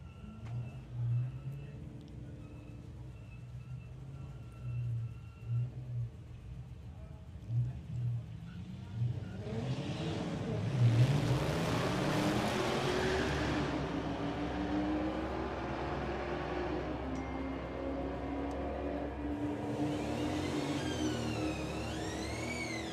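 A Ford Falcon and a newer Mustang launch side by side at a drag racing event, their engines rising into a loud, growing roar that sweeps and holds, with a commentator's voice over the track noise before the launch.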